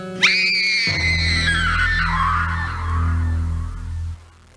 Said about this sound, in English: We heard the scream